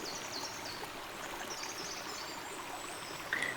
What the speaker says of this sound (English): noticing the flow of the creek behind you